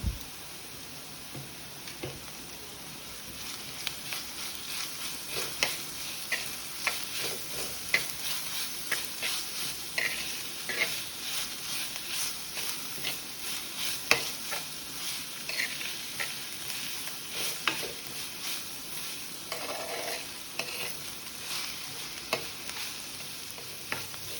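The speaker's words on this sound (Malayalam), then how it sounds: "ഇനി ഇതിലേക്ക് ഇഞ്ചിയും വെളുത്തുള്ളിയും പച്ചമുളകും ചതച്ചത് ചേർത്ത് ഇളക്കി കൊടുക്കാം" Squid stir-frying in a pan with crushed ginger, garlic and green chilli, a steady close sizzle with repeated scraping stirs and clinks throughout, no talking.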